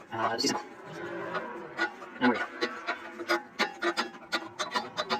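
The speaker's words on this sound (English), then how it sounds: "the caliper off, so I can remove the rotor" Scraping, rubbing and scattered metallic knocks come from removing the brake rotor on a 1988 Alfa Romeo Spider. The sounds are close and irregular, in bursts of varying loudness.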